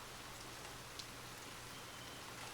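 Steady rain falls in a soft, even hiss of countless drops on a surface, faint and continuous with a low background hum and no voices.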